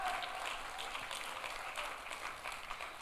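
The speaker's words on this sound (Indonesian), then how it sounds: "Tepuk tangannya yang meriah buat Tuhan kita" Church congregation gives steady, lively applause for God throughout, a dense even patter of many hands heard from a moderate distance, fairly quiet overall with no voices rising above it.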